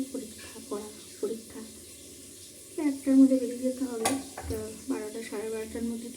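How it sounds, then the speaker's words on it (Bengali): Fish fries in a kadai with a steady sizzle, broken by scraping stirs and clanks of a utensil against the pan, while a voice murmurs faintly underneath. "মাছটা মনে হচ্ছে 1 পিস ভাজা হয়ে গেছে"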